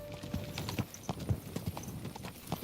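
Horse hooves clip-clopping in Kingdom Come: Deliverance 2, a steady walking rhythm of distinct close knocks, about two to three per second, with light ambient background and no talk.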